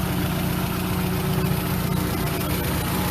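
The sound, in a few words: car engine idling quietly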